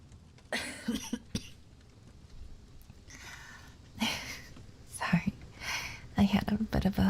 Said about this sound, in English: I had a bit of a cough attack.